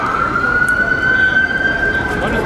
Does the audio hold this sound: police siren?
yes